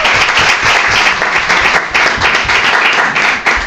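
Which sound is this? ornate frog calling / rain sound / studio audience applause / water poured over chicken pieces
studio audience applause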